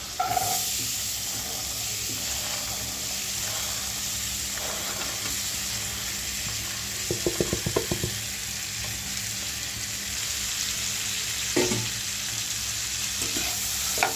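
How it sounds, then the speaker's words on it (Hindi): Sweet corn kernels fry in butter (maska) for corn chaat, giving a steady broadband sizzle throughout, with occasional scraping stirs and a brief cluster of clicks near the middle. "मस्के को अच्छे से डाल देंगे इसमें। साथ ही में डाल देंगे कॉर्न को।"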